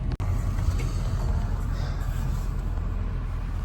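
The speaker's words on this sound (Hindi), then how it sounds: "मैं बैक कर रहा हूँ गाड़ी फ़िलहाल" An automatic car reverses slowly through snow in –18°C cold, giving a low, steady engine rumble and muffled road noise close by, opening with a brief click, with no speech.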